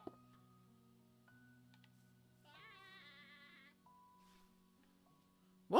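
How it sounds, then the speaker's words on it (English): A Minecraft goat gives a short wavering synthetic bleat in the middle, quiet against a nearly silent game backdrop with faint tones, and a louder burst comes right at the end. "Is this a screaming goat?"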